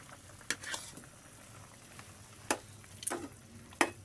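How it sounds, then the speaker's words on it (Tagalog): Fried potatoes drop into a pan of simmering pork adobo, giving a few sharp sizzling bursts and clatters spaced over a soft bubbling background, close and moderately loud with no talking. "Ilagay na rin natin tong piniritong patatas"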